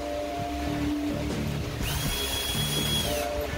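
Cordless power drill with its clutch set, driving a hose clamp tight on a Jeep Wrangler JK 3.6 cold air intake; a steady close whine runs throughout with pitch changes as the screw tightens.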